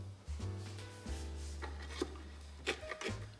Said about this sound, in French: je vais maintenant découper des morceaux dans le sens opposé.